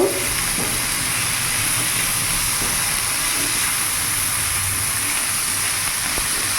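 Chopped capsicum and tomato sizzling in a pan for chicken pasta, a steady broadband hiss that stays even and fairly loud throughout with no talking.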